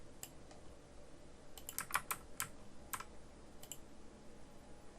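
Soft clicks of keyboard shortcut presses, Ctrl+A then Ctrl+C, come in a small quick cluster of taps against faint background hiss, close and quiet.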